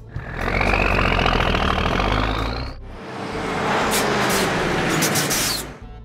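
Pink toy dump truck engine roaring loudly and steadily, with a whining tone that rises, a brief drop at about three seconds, then a noisy, hissing second burst of running.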